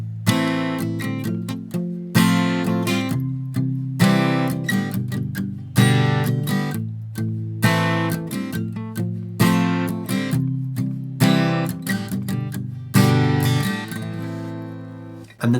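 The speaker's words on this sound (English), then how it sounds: "So if I play that slowly, it's going to sound like this." Guitar chords are strummed slowly in a steady repeating pattern. Each chord rings out clearly and close, and no voice is heard.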